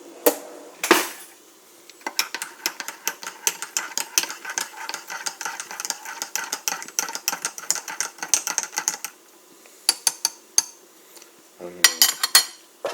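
A spoon clinks rapidly and repeatedly against a glass while sugar is stirred into a sweet carbonated strong coffee raspberry drink, a steady run of bright clicks with short pauses and a final burst of quick taps.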